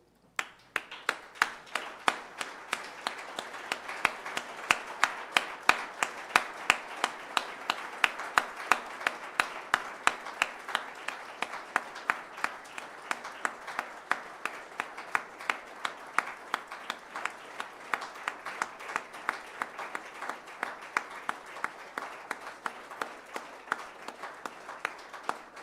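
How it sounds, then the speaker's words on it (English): A standing crowd at a memorial service for Kaizer Chiefs footballer Luke Fleurs applauds at length, a dense, sustained clatter of many hands with sharp, regular claps standing out rhythmically throughout. "I think I'm going to ask everyone to give a round of applause"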